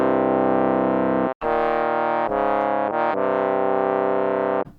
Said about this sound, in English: and get a brassy-like sound